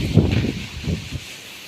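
Strong wind gusts in rapid, rushing bursts near the microphone, a few breathy whooshes before settling into a softer hiss.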